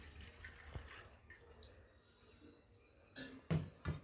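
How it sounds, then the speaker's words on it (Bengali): A plate is rinsed under water at home, with faint trickling and drips at first, then a few louder splashing gushes near the end. "খাবার আগে থালাটা ভালো করে ধুয়ে নিচ্ছি"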